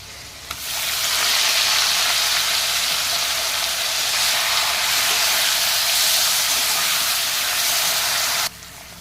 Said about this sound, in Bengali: প্রথমে আমি পেঁয়াজ বাটাটা ভেজে নেব